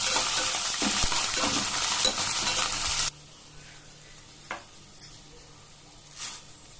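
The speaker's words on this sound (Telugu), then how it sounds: "శనగపప్పు, పల్లీలు, పచ్చిమిర్చి, ఎండుమిర్చి, కరివేపాకు అన్నీ కలిసేలా కలపాలి." Chana dal, peanuts, green and dried red chillies and curry leaves are stirred in hot oil for poha chivda: loud scraping and sizzling for about three seconds, then a quieter simmer broken by a few soft stirring scrapes.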